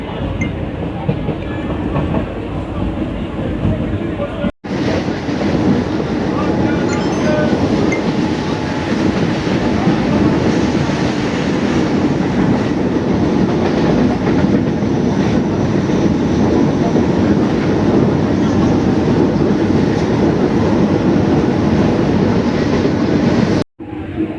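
A Sealdah–Taki Road local train pulls away from Kankra Mirzanagar station and runs on, with a loud, steady rumble and rattle of the carriages that lasts throughout, heard from inside the train.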